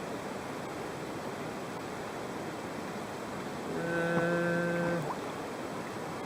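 Whitewater rapids on the Steel River roar steadily and close by as a solo canoeist approaches them, with a broad rushing wash throughout and a brief tonal whine rising over it near the end.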